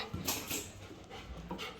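A dog following close behind at night pants in quick, soft, breathy puffs, faint and irregular over low background noise, with no one speaking.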